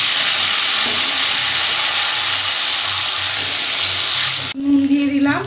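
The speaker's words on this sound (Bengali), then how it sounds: "সেদ্ধ করা আলুগুলো ভেজে নেব" Boiled potatoes frying in hot oil, a loud, continuous sizzle that cuts off abruptly near the end, followed by clinks and scraping in the pan.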